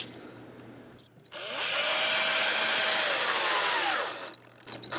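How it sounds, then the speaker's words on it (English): Power screwdriver driving new screws into an RG-style electric guitar: a close, steady whirring run of about three seconds, with short ticks and handling noise before and after. "putting some new screws in never hurt nothing"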